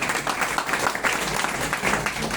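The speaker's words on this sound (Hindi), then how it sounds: "एक बार जोरदार ताली।" Audience applause at a crowded indoor gathering, steady dense clapping throughout at moderate loudness with no voices over it.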